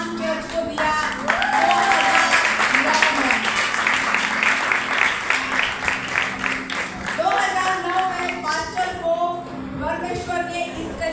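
A church congregation claps loudly and at length: dense, sustained applause filling the room, with voices calling out over it and the clapping thinning toward the end.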